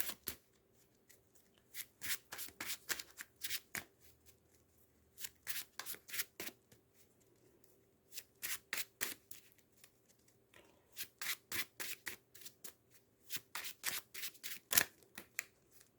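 Cards for the Marvel Champions card game are shuffled in repeated quick bursts of riffling and flicking, each cluster lasting a second or so, separated by short pauses against a quiet room background.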